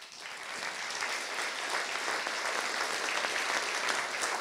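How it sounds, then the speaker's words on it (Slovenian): An audience claps steadily for performers on stage at a poetry and graphic art event honoring Prešeren Award winners, a dense even wash of applause that holds at an unchanging level. "Mislim pa, da si zdaj naši glavni nastopajoči na odru zaslužijo še en res lep aplavz."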